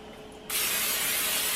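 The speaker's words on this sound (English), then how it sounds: "don't forget to spray it with oil spray so your egg won't stick" Oil spray hissing onto a preheated skillet for an egg, a steady loud broadband spray that starts abruptly about halfway through and continues to the end, after a quieter stretch.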